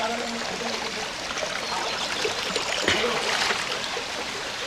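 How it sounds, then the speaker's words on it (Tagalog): Rushing water at a hidden waterfall near Tagaytay, a steady, dense roar of flowing water that holds constant throughout, with no talk over it. "narinig ko na nga yung ano, yung lagaslas ng tubig"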